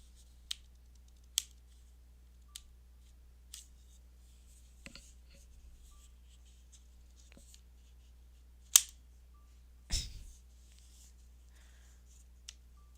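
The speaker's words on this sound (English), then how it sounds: "I still love the clicking sound." Sharp clicks from a Nintendo Switch 2 during a data transfer. Isolated, crisp ticks come at irregular intervals against a quiet background, with one or two louder knocks.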